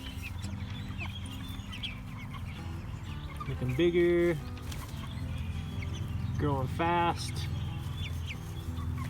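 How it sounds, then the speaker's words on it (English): Cornish Cross meat chickens around day 54 cluck and squawk in a coop, two loud bursts standing out over a steady low murmur of birds, while a person talks briefly. "Back to the meat chickens, who are looking a lot more like growing meat chickens at this point."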